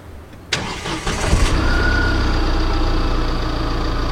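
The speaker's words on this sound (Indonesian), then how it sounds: "Terus kita bakal dengerin suara mesin mobilnya seperti apa." A 2018 Tata Xenon 4WD diesel starts with a sharp crank after a quiet moment, catches with a brief rev, then settles into a loud, steady, close idle.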